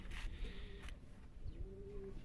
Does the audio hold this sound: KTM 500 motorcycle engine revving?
no